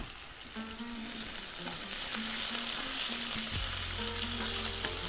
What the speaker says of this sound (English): Let's fry these potatoes at least for 3-4 minutes.